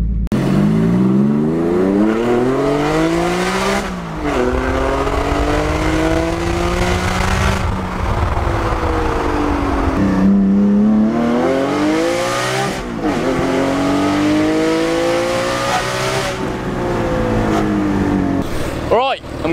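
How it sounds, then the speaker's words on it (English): A Porsche 718 GT4 fitted with Cargraphic headers and an Akrapovic exhaust revs repeatedly, loud and close, its engine note climbing and falling in several long sweeps with brief pauses between. "What's the one thing I don't like about Nor's new exhaust setup? I'll put it frank, it's too loud."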